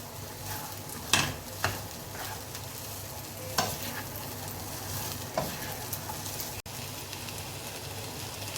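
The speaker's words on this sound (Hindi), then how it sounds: "इसको आपने मिक्स करना है अच्छी तरह सब्जियों को और चिकन को, ताकि सब मसाला आपस में मिक्स हो जाए और साथ साथ आप चमचा हिलाते रहना" A spoon stirs vegetables and chicken in a hot pan for a pasta sauce, with a continuous low sizzle broken by several sharp scrapes and clinks at irregular intervals.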